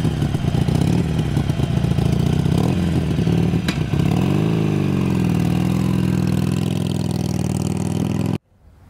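A Harley-Davidson motorcycle engine idles close by, a steady loud rumble with a faint clatter that holds for about eight seconds before cutting off abruptly.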